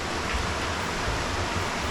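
Creek flowing beside a campsite on an October camping trip, a steady, close rush of moving water with no breaks or voices.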